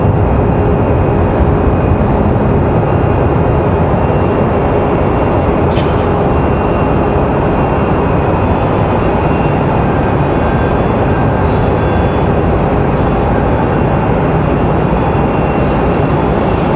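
A Boeing 737 jet in American Airlines livery at Raleigh-Durham International Airport gives a steady, loud engine roar and broadband rumble that holds throughout, with no talk.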